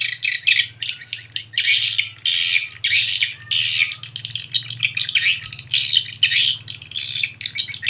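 A recorded swiftlet lure call plays loud and close: rapid, repeated bursts of high chirping and twittering, separated by short gaps, with a low steady hum underneath and no voices.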